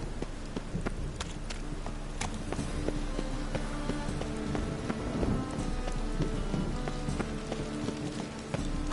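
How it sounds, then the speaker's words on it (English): Steady rain patters across a surface in The Witcher 3, with scattered droplet taps and a faint rhythmic clip-clop of hooves mixed in, continuous throughout with no talking. "And it's raining again."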